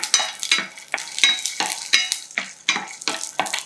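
Green chillies, peanuts and garlic roast in a pan with a sharp dry sizzle. A utensil stirs and scrapes them in quick repeated strokes, close and fairly loud, about seven or eight in a few seconds.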